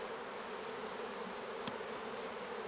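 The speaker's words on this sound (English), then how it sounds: "So the bees are out collecting and doing really well" Honeybees buzz at an open hive during an apiary inspection, a soft, even, continuous drone with no voices.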